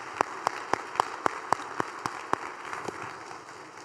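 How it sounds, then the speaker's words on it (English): At a city and county address, a small group claps for city employees in a sparse, evenly paced run of about ten distinct claps that stand out over a quiet room, fading toward the end. "give them a big round of applause"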